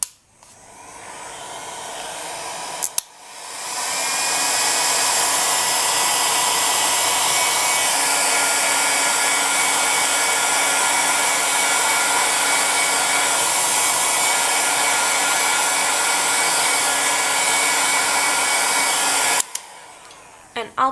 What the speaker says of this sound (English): I like to take a heat gun on my low setting